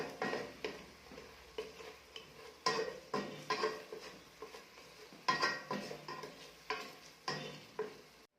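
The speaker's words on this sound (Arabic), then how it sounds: "نص طماطم مصبره نقعد نحرك" Tomato paste being stirred into green beans in a pot, a series of close, separate scraping and clinking strokes of a utensil against the pot at an uneven rhythm, with a faint sizzle between them and no voices.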